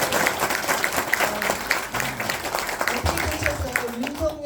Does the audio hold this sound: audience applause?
yes